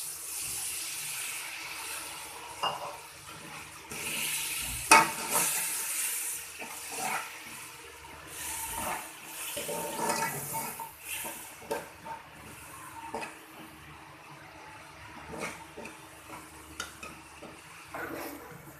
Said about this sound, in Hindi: मसाला हमारा सारा अच्छे तरीके से भुन चुका है।